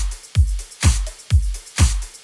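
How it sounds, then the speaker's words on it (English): A processed drum bus mix with saturation and compression across the chain, heavy kicks and cracking snares alternating in a steady punchy groove, loud and close with no voices. "So the entire drum bus together with all the processing sounds like this."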